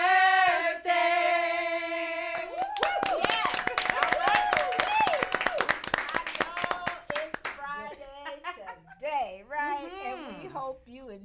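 Hand clapping from a group after a sung birthday greeting, a fast burst of sharp claps lasting several seconds between singing and talking voices, close and fairly loud.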